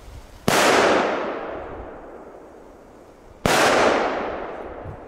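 Two loud firecrackers from Belgian consumer fireworks explode about three seconds apart, each a sharp bang with a long echoing tail fading outdoors.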